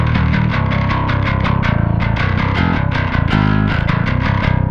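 A bass played through a drive pedal voiced after an Ampeg amp, giving a fuzzy, distorted low end. A loud, continuous riff with a gritty, saturated tone plays without pause.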